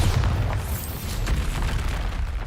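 Bombarda spell explosion in Hogwarts Legacy gameplay, a loud, dense rumbling blast that holds steady through the moment with broad noisy roar.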